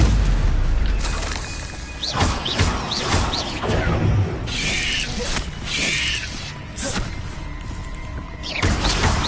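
Spell combat in Hogwarts Legacy with a Stupefy stun spell cast amid the fight, heard as a series of sharp booming impacts and crackling bursts over a dense, continuous game soundscape.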